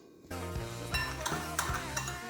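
A spoon stirs sugar, salt, fresh coriander and mint sauce together in a bowl, giving several close, distinct scrapes and clinks in a slow rhythm with a steady background hum and no talking.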